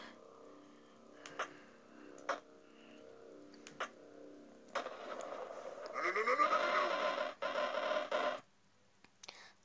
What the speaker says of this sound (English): There's a goat. Just a goat.